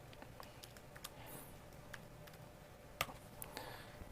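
Typing on a computer keyboard, faint quick key taps in an uneven rhythm with one sharper click, all quiet against low background hiss.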